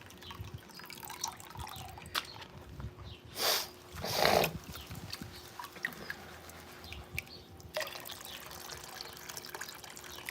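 Muddy, chocolate-brown gold-panning dirt full of organic bits is sloshed in water, with two louder watery swishes standing out over light dripping and trickling.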